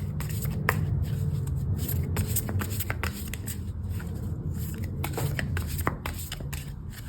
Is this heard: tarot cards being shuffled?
yes